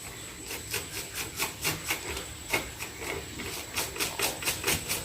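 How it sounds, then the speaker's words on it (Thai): An old soft toothbrush scrubbing gold jewelry, a steady series of quick, soft bristle strokes in a brisk back-and-forth rhythm, close and fairly quiet, with no talking. "เหมือนแปรงแบบนี้ครับ แปรงเบาๆแบบนี้ครับ แปรงทั้งหน้าทั้งหลังเลยนะฮะ"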